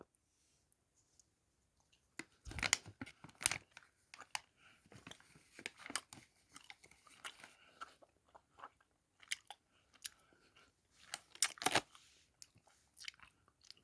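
A Pikachu-shaped chewy Pokémon snack being bitten and chewed up close, with irregular moist crunches and clicks in uneven bursts, quiet between bites and no talk.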